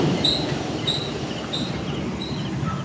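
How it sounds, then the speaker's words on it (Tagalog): A heavy vehicle rolls along a rural road in the Philippines during a storm's aftermath, giving a steady, fairly close rumble with faint repeating squeaks and no voices. "Truck lang yan, truck."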